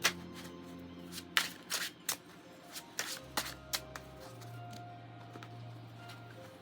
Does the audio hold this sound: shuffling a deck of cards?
yes